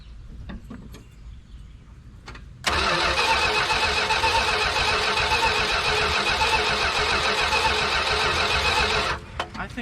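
A 1975 Dodge Dart Sport, sitting unused for 14 years, cranks and catches, then runs steadily and loudly at a rough idle for several seconds before dropping off, with faint talk beforehand.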